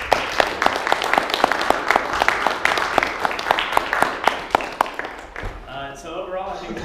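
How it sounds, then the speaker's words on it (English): A student Toastmasters meeting audience claps for the speakers, a steady patter of many hands for about five seconds that fades as a voice begins talking. "Go ahead and clap for all the speakers"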